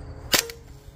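An Invader Auto air rifle fires a single H&N slug, one sharp, brief crack followed by a faint ringing tail against a quiet background.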